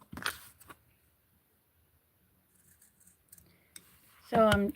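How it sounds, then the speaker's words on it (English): Scissors snip through folded fabric while someone sews, a short cut at the start and a few soft clicks later, followed by a brief spoken word at the end. "So I cut it a little bit more right there because it's bulky because of the folded fabric."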